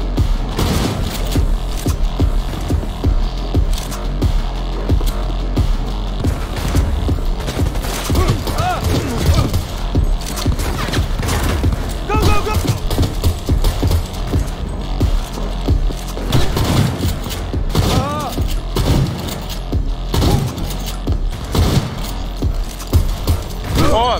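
Sustained, dense gunfire from a turret in Cyberpunk 2077, rapid bursts hammering continuously at close range amid mechanical clatter, with shouted voices now and then over the shooting.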